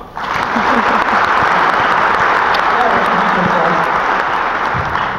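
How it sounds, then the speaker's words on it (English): A packed orientation audience bursts into loud, sustained applause for an incoming speaker, dense clapping rising sharply at the start and holding steady, with cheers and voices blended into the roar. "Give her a hand clap."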